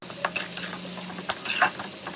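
Fish roe fries in oil on high flame with a loud close sizzle, broken by a few sharp bursts of scraping and clatter as it is stirred in the pan, and no one speaks.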